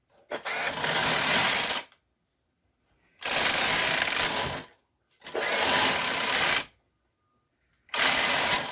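A Singer 910 sewing machine stitches a pattern in four loud, steady bursts of rapid mechanical whirring, separated by silent pauses, close up with no talk.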